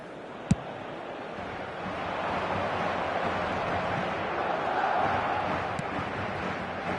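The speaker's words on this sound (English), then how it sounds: "at least the crowd are appreciative of his efforts" Stadium crowd noise swells in eFootball (PES), a broad steady roar of spectators rising gently and holding over several seconds, with one sharp click near the start and no speech.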